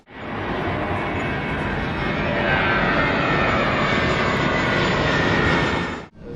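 A steady, loud roar of jet engines fills the cabin of a Turkish Airlines airliner flying to Seoul Incheon, a continuous broadband drone heard from inside with no voices.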